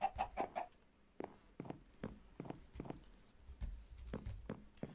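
Minecraft chickens in the Sky Factory 3 modpack cluck in a short burst of quick calls, then keep up scattered, moderately loud clucks over the next few seconds, with no talking.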